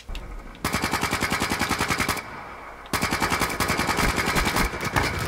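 Rapid automatic gunfire in Black Ops 3, loud and close, firing in long continuous bursts with brief pauses between them and no talking.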